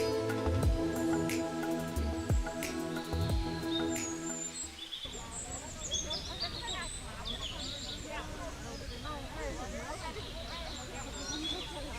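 Birds chirping and singing in spring in Washington DC, a busy mix of high calls and twitters after an opening stretch of voices and hum, moderately distant and continuous.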